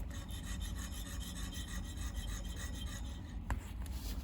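Continuous scratchy, rasping mechanical noise from a faulty hard drive in an Olivetti M280 80286 computer, with a faint rhythmic pulsing, steady throughout, then a single sharp click near the end.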